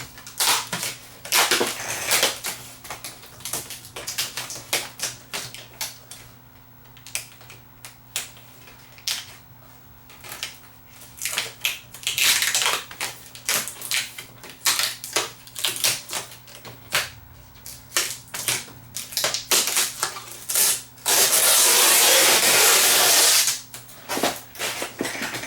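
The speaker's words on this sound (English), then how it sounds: "I need to be able to undo these plastic clips that hold the bezel on" Plastic clips holding the bezel on a Samsung UN46F6350 TV are pried loose, giving bursts of sharp clicks, snaps and rattling that come close and loud, then a short harsh rasping scrape near the end.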